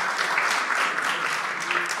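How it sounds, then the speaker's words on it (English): Sustained, dense applause from an audience at a public event, steady and fairly loud for the whole stretch with no voices standing out. "I applaud them again in Hebrew and in English."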